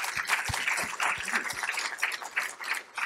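Audience applause at the re:connecting Europe 2017 event, a dense, steady patter of many hands filling the whole stretch at moderate level, with a few sharper single claps standing out near the start.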